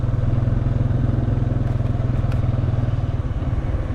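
A motorcycle engine idles close by after a repair, a loud, steady, rapid thumping putter that continues evenly throughout with a few faint clicks above it.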